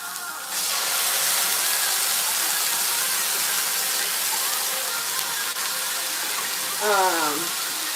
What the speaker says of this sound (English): I need to put a little water in here